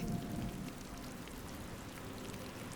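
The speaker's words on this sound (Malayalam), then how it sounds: "ആദ്യ മഴ അതിൻ്റെ ഗന്ധവും നനവും ഇന്നു തന്നെ" First rain of the season falling steadily, a soft, dense patter with no voices, holding an even level throughout.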